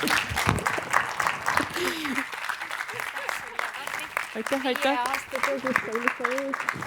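An audience at a talk event breaks into applause, clapping steadily while the speaker on stage repeatedly says thanks over the noise.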